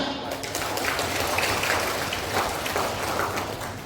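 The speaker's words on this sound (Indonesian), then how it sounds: "Tepuk tangan." Applause from a crowd at a regional assembly plenary session: a steady wash of clapping hands, moderately loud and sustained for a few seconds.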